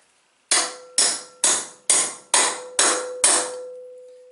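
Seven loud, evenly spaced metal hammer blows drive a big punch to tighten a part on a 1978 Chevy square body K10 truck, each sharp ringing strike close up and decaying before the next.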